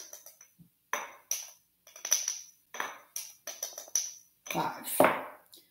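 Repeated metallic clinks of a teaspoon scooping chili powder and tapping against a container, a dozen or so sharp close ticks in an irregular rhythm.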